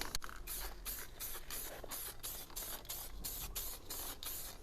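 An aerosol can sprays paint in a first dust coat, delivered as a series of short, evenly spaced hissing bursts, close and fairly quiet, with small gaps between passes.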